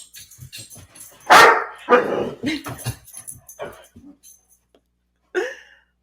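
Several dogs bark in short loud bursts in a home setting, with sharp yips clustered early and one more bark near the end, mixed with quieter background voices.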